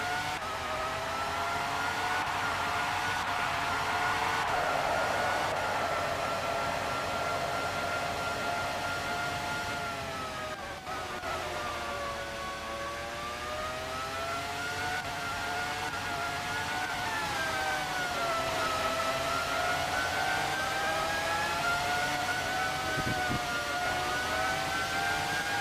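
A Formula 1 car engine in the PlayStation game Formula 1 '97 at the Hungaroring, whining loudly and continuously as the pitch climbs and falls while the car shifts up and down through the gears, with no voices.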